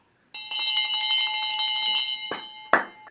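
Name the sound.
victory bell being rung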